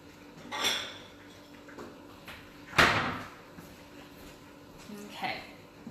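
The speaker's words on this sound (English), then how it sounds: "I'm gonna get a dish, just a second." Dishes clink and clatter in a kitchen while someone fetches a plate during keto tortilla cooking, giving a few sharp knocks and a cupboard-like thump at a moderate distance.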